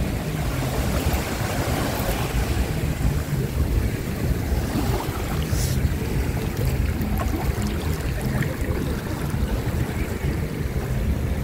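Steady wash of water and waves at a beach in Nigeria, with heavy wind buffeting the microphone, a continuous loud rushing with no voices.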